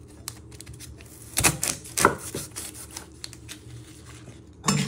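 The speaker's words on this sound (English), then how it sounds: "You want to chop the other ends off." A knife chops the ends off a vegetable on a cutting board, giving a few sharp, separate cuts that stand out over quiet room noise, with no talking.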